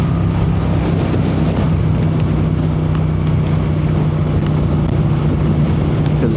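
A motorcycle rides through freezing cold air at about 40 degrees, its engine a steady low drone under constant loud wind buffeting on the microphone, with no talking.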